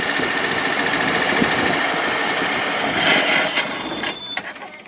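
An old motorhome engine idles on its own from a cold start with the choke partly closed. The running drone is steady and fairly loud, then roughens and dips near the end, with no talk.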